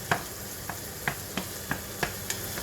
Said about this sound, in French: j'ai ajouté l'oignon, donc qu'on va faire revenir donc sur l'huile d'olive et le beurre, donc en remuant